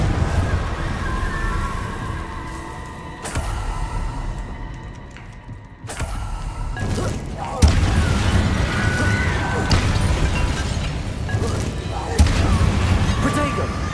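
Confringo blasting spell explosions in the video game Hogwarts Legacy, crashing booms over a constant clatter of combat and music, with a sudden hard blast partway through.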